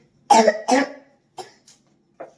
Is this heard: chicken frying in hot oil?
no